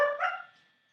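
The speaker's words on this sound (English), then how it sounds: "Sorry about that, it's the dogs." A single short dog bark, close and fairly loud, fading quickly into silence.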